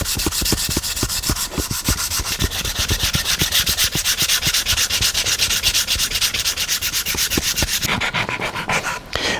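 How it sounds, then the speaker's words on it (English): A neck-thru guitar body being sanded by hand, with rapid back-and-forth rasping strokes in a continuous close rhythm that eases off near the end. "Now I have to be really careful when sanding in this area here"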